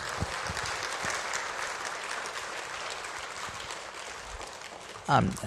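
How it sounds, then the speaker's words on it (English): Audience applause after a talk on generational trauma, a steady broadband wash of clapping from a crowd running throughout, with a brief louder thump near the end. "I'd like to just also give Sister Musarat one round of applause for being here."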